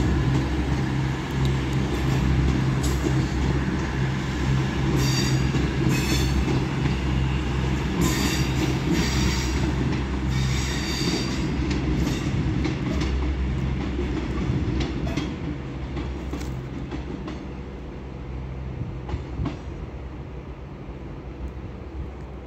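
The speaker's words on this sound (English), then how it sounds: "And now departing is the something time cross-country service from Bristol, I forgot them, to Manchester Piccadilly" CrossCountry class 221 diesel train, unit 221128, pulling out of Stockport station, a steady loud rumble of engine and wheels with rail clatter and faint squeal, easing gradually as it departs.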